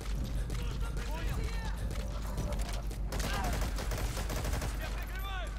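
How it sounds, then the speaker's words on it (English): Rapid gunfire in the video game Metal Gear Solid V: The Phantom Pain, a dense continuous volley of loud shots with a steady low rumble underneath, over a constant game background. "I missed all my shots"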